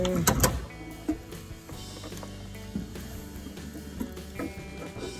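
Alternator being worked free from the tight engine bay of a Toyota MR2 SW20: a few close, scattered mechanical knocks and metallic clunks at irregular intervals, with a steady low hum underneath.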